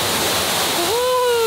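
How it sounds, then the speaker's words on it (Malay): A waterfall and river stream at Lata Ulu Kasar in Terengganu roar as a loud, steady rush of water throughout. A brief rising tonal call rises near the end. "So kita ada air terjun stream macam tu."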